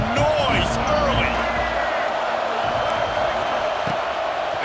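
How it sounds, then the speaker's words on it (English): Stadium crowd roar in the College Football 26 video game during a Texas A&M vs Florida matchup, a steady loud wash of cheering and whoops with a commentator talking over it. "This crowd bringing the energy and noise early."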